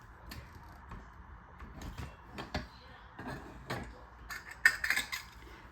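A 3-in-1 button maker press clamping down on a button, a series of close metallic clicks, clanks and rattles building to a sharper crunching clamp near the end, with no talking.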